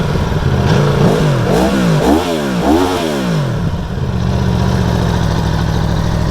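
A 2019 Aprilia Tuono Factory motorcycle engine blips through several sharp, loud revs close by, then settles into a steady rumbling idle, with no talking.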